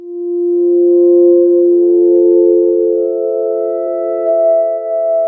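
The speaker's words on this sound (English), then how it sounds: "I have that nice sine wave there as the basis of this" A synthesized sine-wave tone in Bitwig Studio, drenched in a big, long reverb, holds steady and loud for the whole stretch, its smooth sustained pitch slowly blooming with reverberant overtones, with no voices.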